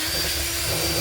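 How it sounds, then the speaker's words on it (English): A Dremel rotary tool cutting a hole for a vessel sink, a loud continuous high-speed whine with a steady motor drone, heard alone. "The Dremel."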